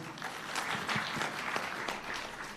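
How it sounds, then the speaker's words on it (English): An audience at an event marking 20 years of financial inclusion applauds the Secretary to the Treasury, a fairly faint, steady patter of crowd clapping. "A big round of applause."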